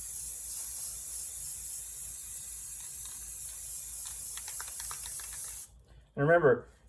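A steady aerosol spray paint hiss sprays handheld onto a shotgun for several seconds, then cuts off, followed by a brief voice.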